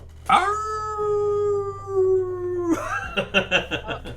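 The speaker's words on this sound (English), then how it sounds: "Some more dogs." Dogs howling at night in the darkness, one long sustained wavering howl held for a few seconds, then several voices breaking into overlapping yips and shorter howls, fairly close.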